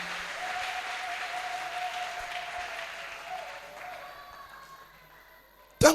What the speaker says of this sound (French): Acclamez pour Jésus-Christ.